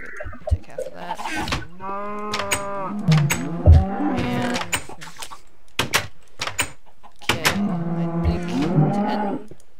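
Minecraft cows moo several times in drawn-out, tonal lowing calls, close and fairly loud, with soft thuds and clicks between them.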